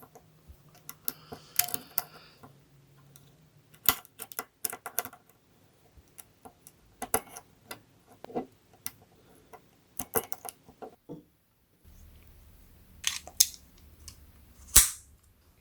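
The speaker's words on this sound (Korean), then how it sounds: "탄창에 장전해 보겠습니다." Five model cartridges are loaded one at a time into the magazine of a full-steel GHK half-scale STEN Mk.II model gun, giving scattered small metallic clicks and snaps close up with quiet handling between them and a firmer clack near the end.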